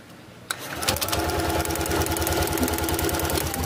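Spark plug from a Honda PCX160 sparking during an ignition test, heard as a rapid, steady stream of buzzing, ticking clicks that starts abruptly and runs without a break, close and fairly loud.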